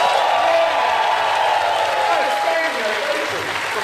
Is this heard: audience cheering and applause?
yes